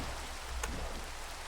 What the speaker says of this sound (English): Alright, and it's raining.